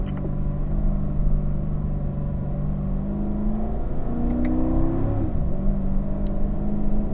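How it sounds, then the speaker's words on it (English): A car on a race track accelerates through the gears toward third, its engine droning steadily up in pitch, dropping briefly at a shift, then climbing again, heard from inside the cabin. "We're going to be working our way up into third gear."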